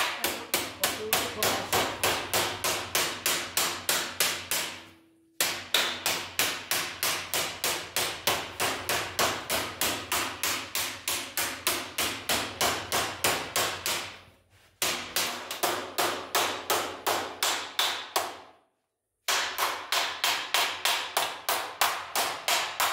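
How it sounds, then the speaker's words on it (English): Hammer tapping down a sheet metal edge to fold it under, a long steady run of sharp, evenly spaced close blows, pausing briefly twice before resuming at the same brisk rhythm. "I'm going to tap down on this here and fold that edge down so that it rolls in"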